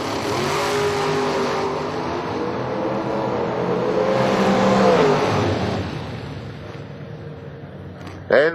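Drag racing cars, an old Chevy and a Blazer, accelerate hard down the strip at a New Year Nationals event, a loud rising engine roar that sweeps and fades over several seconds before a sharp burst at the end.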